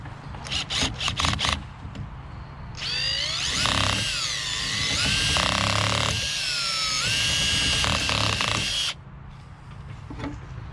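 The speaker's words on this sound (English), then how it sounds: "I'm going to try to drill out this lock." A power drill whines loudly for several seconds, its pitch rising and dipping as it bites into a metal lock on a 1965 Mercury Montclair, with brief clicks and rattles before and after.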